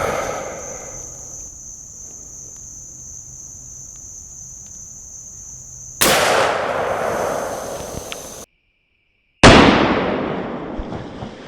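Two sharp, loud 45-70 rifle reports fired at a hatchet in the evening outdoors, each a sudden blast with a long ringing decay, over a steady background of chirping insects.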